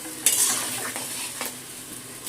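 A paste of tomato, ginger and green chilli is stir-fried in a pan, a soft continuous sizzle punctuated by a few sharp scraping strokes of the spoon, heard up close.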